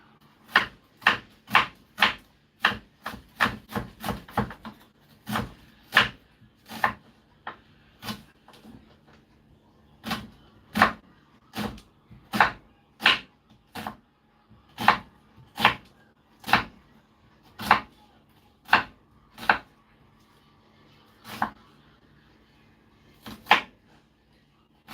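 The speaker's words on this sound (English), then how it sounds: "Onions are chopped." Onions being chopped with a knife on a cutting board: a fast run of sharp, close knocks at the start, then steadier, slower single chops continuing alone.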